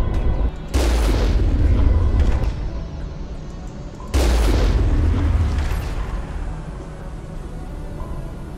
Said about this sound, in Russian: у них пушки такого расстояния пробивают